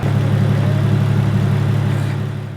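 A turbocharged Barra engine swapped into an 80-series Toyota Land Cruiser with a straight-through exhaust idles steadily while warming up, a loud, close, even low rumble with a slight fade at the end, with no talking.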